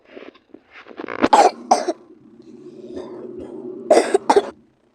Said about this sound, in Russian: О, я покашлял, я кашлял, хорошо.